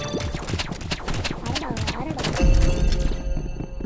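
Gunfire rings out in the Roblox game Rivals as a quick burst of sharp shots layered over game sounds, while a player talks over it.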